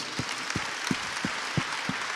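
An audience at a church teaching session applauds, a steady patter of many hands at moderate level, with a few louder rhythmic claps standing out about every third of a second, and no talk over it.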